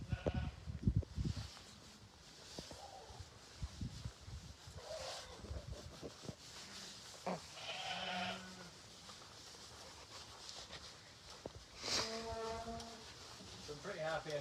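Sheep and a lamb in a lambing pen on a farm bleat now and then amid rustling and shuffling, the calls moderately near and mixed with low background noise and some talk.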